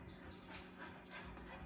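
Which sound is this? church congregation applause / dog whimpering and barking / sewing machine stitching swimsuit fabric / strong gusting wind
dog whimpering and barking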